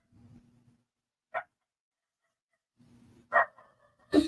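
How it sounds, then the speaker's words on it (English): Dogs bark in a few short, separate bursts, fairly close, with quiet low grumbling between them and silence in the gaps. "As they're barking and wagging their tails"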